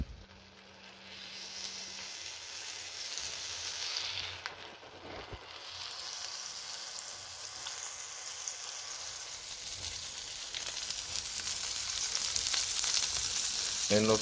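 Piece of pork meat frying in a pan with pork fat, a soft continuous sizzle with crackling and faint stirring, steady and close throughout with no talk.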